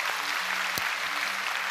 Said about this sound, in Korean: 우리 교회 좋은 청년들 박수로 한번 축복하겠습니다